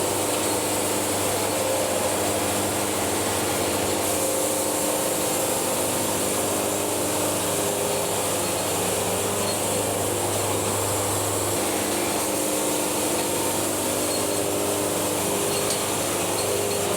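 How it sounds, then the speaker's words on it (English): Sawmill blade cutting boards from a large poplar log, a steady loud whining drone of the engine and blade that holds unbroken throughout, close by and alone. "this is how you know you've had fun sawing up a log"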